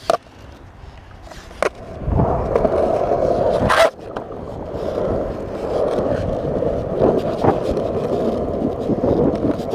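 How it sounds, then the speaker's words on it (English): Skateboard wheels roll and rumble at a skatepark during a kickflip attempt, with a sharp board pop near the start, another clack, and a loud landing slap midway before the rolling resumes, heard close from a head-mounted camera. "Who would have thought I'd choke like that on a kickflip?"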